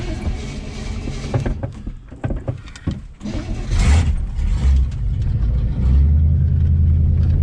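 A 1967 Chevrolet Impala with its exhaust cut off runs with a loud, rough, hot-rod rumble, choppy at first with dips and blips, then rising into sustained heavier revving and a steady loud idle.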